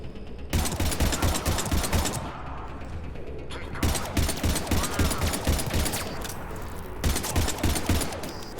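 Rapid automatic gunfire with incendiary rounds in Mass Effect 3 rattles off in three long sustained bursts separated by brief pauses, loud and close.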